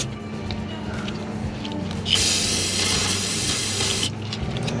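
Cleaner sprayed onto the back of a passenger-side fuel line on a Ford 7.3 Powerstroke truck engine, a steady close hiss of about two seconds that starts abruptly and stops cleanly over a low idle-like hum.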